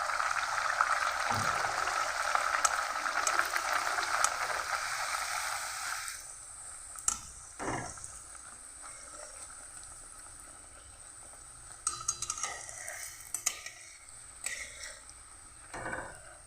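Pea-stuffed matar puri fry in oil with a loud, steady bubbling sizzle that cuts off after about six seconds, leaving a quieter background with scattered clicks and clinks of utensils.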